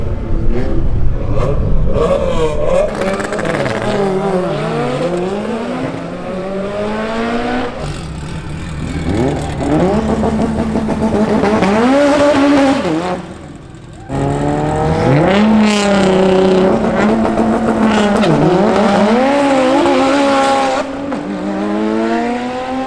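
A Nissan GT-R and a Mitsubishi Evo drag racing at the Buschur Shootout, with loud engines revving hard through rising gear sweeps, a brief drop between runs, then another full-throttle launch pulling away.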